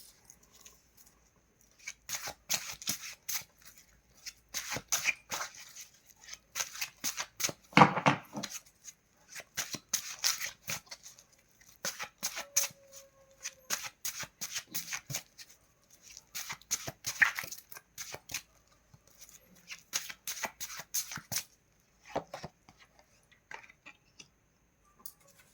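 A deck of tarot cards shuffled by hand, with repeated bursts of crisp riffling and flicking close by, broken by short pauses and a few soft handling taps.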